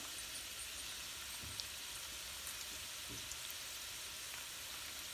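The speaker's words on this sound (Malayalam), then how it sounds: "അപ്പോൾ നമുക്ക് നല്ലതായിട്ടൊന്ന് വഴറ്റിയെടുക്കാം" Onions, spring onions and ginger sauté in a pan, giving a faint, steady sizzle with soft occasional clinks, alone and without talk.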